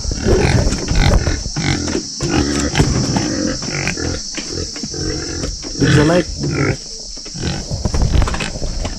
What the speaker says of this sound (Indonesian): Ini babi-babi sehat makannya singkong.